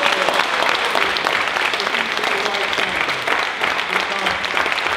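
A crowd at a justice rally applauds steadily, a thick, even roar of many hands clapping close by, with faint voices mixed in beneath.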